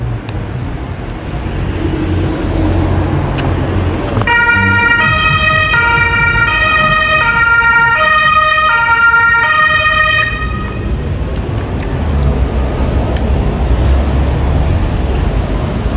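Continuous road traffic rumbles behind an abandoned parking area, with an emergency siren wailing through the middle as vehicles pass steadily and loudly nearby.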